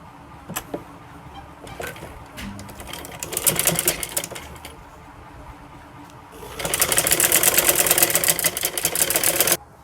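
A sewing machine stitches a seam on a wrap trouser in short bursts, then runs in a long steady whir near the end, close and fairly loud.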